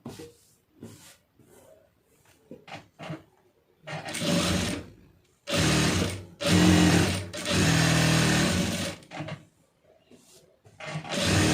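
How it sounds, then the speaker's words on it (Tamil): A sewing machine stitches a lined blouse in several loud bursts of fast whirring stitching, separated by quiet pauses with soft handling noises and brief speech. "இதில் ஒரு தையல் போட்டுருங்க"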